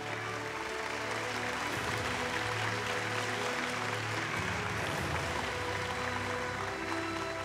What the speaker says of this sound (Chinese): 接下来让我们掌声请出2023爱心奖得奖者，广东公益续孤助学促进会发起人王颂汤先生，有请。